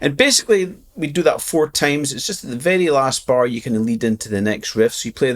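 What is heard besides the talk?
No everyday noise stands out behind the speech.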